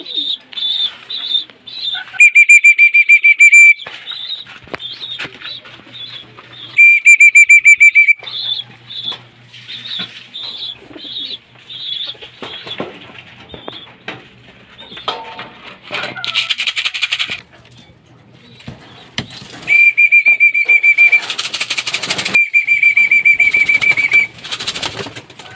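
Pigeons coo and flap their wings in repeated bursts during pigeon training in Marilao, Bulacan, with sharp high whistles cutting in at intervals and scattered clicks and rustling throughout.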